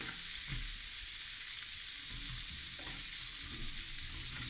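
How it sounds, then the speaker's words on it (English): Butter melts in a pan on a hot plate, a steady bright sizzle with soft scrapes and bumps as it is tossed, fairly close and alone. "So now as the butter is melting, just quickly tossing it just so that it can melt so quick."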